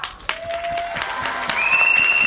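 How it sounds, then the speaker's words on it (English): Audience applause at a Jeunesse Lead a Pack business event, a dense wash of clapping that swells and stays steady and fairly loud through the short stretch, with tonal feedback-like hums mixed in. "Give yourself a round of applause."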